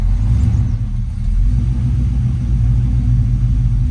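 A Chevrolet C10 truck engine idles low and steady, a close, continuous deep rumble with a slight uneven pulse and no revving.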